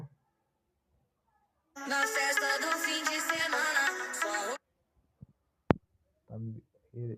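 A melodic ringtone plays alone for about three seconds, bright and steady, followed by quiet gaps, a sharp click, and a few short soft sounds.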